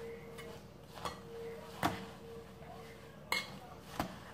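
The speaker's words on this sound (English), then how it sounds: "Okay, give that a good stir." A utensil stirs cranberry relish in a bowl, giving faint scraping with a few sharp clinks against the dish, quiet and close.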